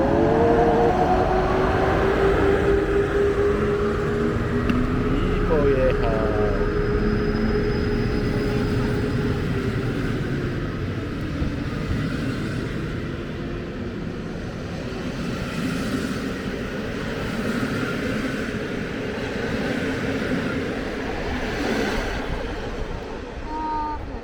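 A train at Pabianice railway station pulls away, a steady, loud rail rumble with faint squeals that holds throughout and eases slightly, while voices are heard briefly early on.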